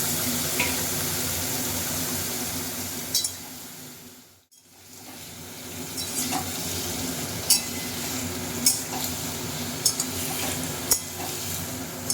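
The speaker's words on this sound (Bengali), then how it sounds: "এবার আমি এই তেলেই আমি হচ্ছে এঁচড়টাকেও ভেজে নেব" Pieces of green jackfruit frying in oil, a continuous close hiss and crackle with occasional sharp pops and stirring clicks; the sizzle dips briefly near the middle before resuming, no voices.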